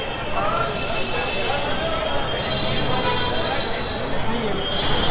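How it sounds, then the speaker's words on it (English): Metro train running through a Delhi metro station, a steady rolling rumble with faint wheel squeal and a broad hiss that holds evenly throughout, close and moderately loud. "This is the Karabakh metro station."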